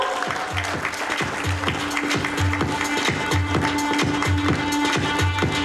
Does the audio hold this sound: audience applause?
yes